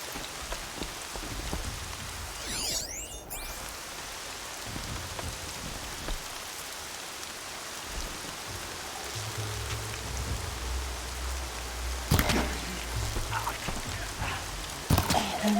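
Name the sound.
rain falling in the video game Horizon Zero Dawn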